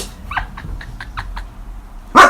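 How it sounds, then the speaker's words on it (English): A pet dog makes a short run of soft whimpering yips and whines nearby, followed by one louder bark at the end, with no talking over it. "What's the dog doing? What's she doing?"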